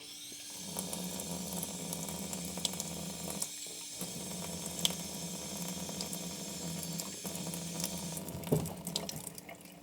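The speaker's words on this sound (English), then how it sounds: "I'm going to fill this jar halfway with cold water." Cold water runs from a tap into a jar being filled halfway, a continuous close splashing rush with a brief break partway through and small clinks near the end.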